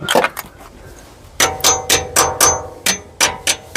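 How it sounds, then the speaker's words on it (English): A metal socket drops and clangs during work on a big-block engine, a cluster of sharp metallic hits at the start, then a pause before about eight more ringing clanks in an uneven rhythm. "Did you drop the socket?"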